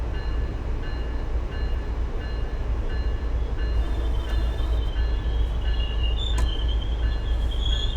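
An MBTA HSP46 diesel locomotive in a Boston-area train simulator game rumbles steadily, with constant low engine drone and rolling rail noise, plus faint higher squeal tones toward the end.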